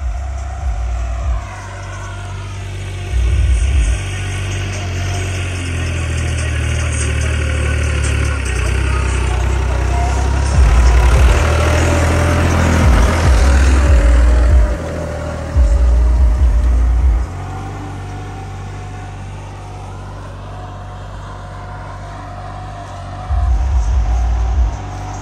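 A tractor engine labors steadily in a field, a loud continuous rumble with periodic deeper surges as it strains under load.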